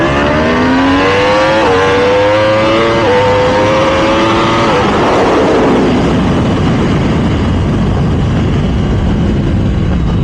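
A Yamaha R1M superbike accelerates at full power on a track, its engine screaming loud and close with rising revs through quick gear changes before the roar smears into a broad, rushing blast of exhaust and wind.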